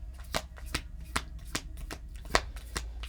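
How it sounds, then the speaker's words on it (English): Oracle cards being shuffled by hand, a series of soft close riffling snaps repeating at a steady rhythm about every half second. "what we're going to do is we're going to pull some oracle cards"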